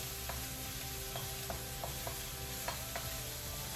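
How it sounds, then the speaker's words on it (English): Onions sautéing in a pan for a diabetic-friendly meal give a steady, low sizzle throughout, with a few light stirring clicks scattered over the constant frying hiss and no talking. "So again, I'm just sauteing them."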